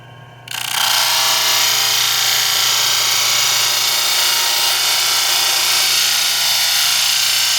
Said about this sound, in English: once you are done with sanding the angles on your tube